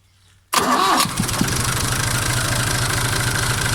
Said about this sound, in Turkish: Gördüğünüz gibi traktör çalışır.